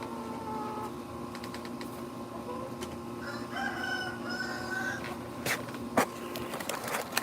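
Chickens cluck and a rooster crows nearby over a steady background hum, with a few sharp clicks toward the end.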